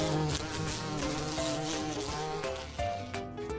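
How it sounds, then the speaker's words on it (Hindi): Bees buzz in a loud, dense drone that carries on without a break, close by and heard alone. "क्या तुमने मधुमक्खियों की भिनभिनाहट सुनी है?"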